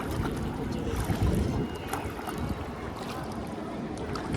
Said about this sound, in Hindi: कितनी तेज पानी बह रहा है।